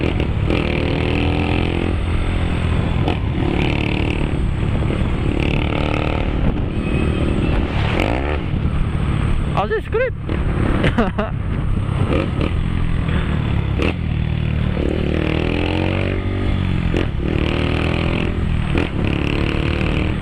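A small electric-start motorcycle rides along with a steady, loud engine drone, its pitch rising and falling through a series of gear shifts, close to the rider and running continuously throughout.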